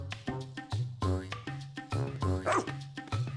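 A cartoonish dog from the game Pikmin 4 lets out a string of yips and woofs, five or six short bright barks in quick succession over soft background music.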